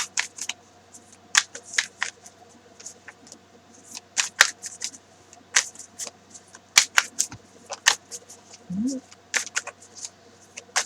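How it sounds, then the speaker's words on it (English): Crisp papery flicks and slides of cards being handled and pulled from a deck, in quick irregular bursts, close up, with a brief low murmur near the end. "I'm going to go ahead and get a card."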